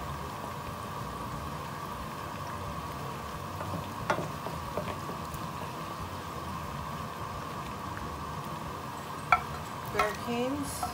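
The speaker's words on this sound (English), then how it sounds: "Just let it boil." Filipino tuyo sauce boiling in a pan, a steady low bubbling and simmering hiss with a few faint utensil clinks, close and fairly quiet.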